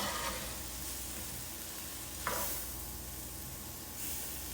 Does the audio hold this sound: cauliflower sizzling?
yes